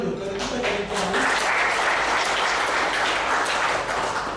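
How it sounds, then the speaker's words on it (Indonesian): Loud, sustained applause from an audience at a provincial environmental coordination meeting in Bali, a dense wash of clapping that swells after a moment and holds steady, with brief voices at the start. "Jadi kita tepuk tangan dulu karena kita jadi tuan rumah."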